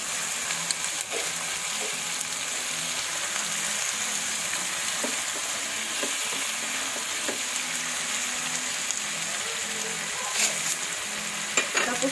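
Squid added to crushed tomatoes in a hot pan for spicy adobong pusit, a steady close sizzle and frying hiss with occasional stirring scrapes, continuous with no talk.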